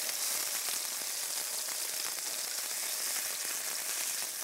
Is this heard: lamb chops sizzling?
yes